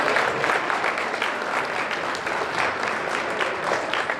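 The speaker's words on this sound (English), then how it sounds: "So student athletes, will you please give these people a round of applause." At an athletic banquet, the audience claps in a dense, continuous, even wash of applause that holds steady and fairly loud throughout, with no voices rising above it.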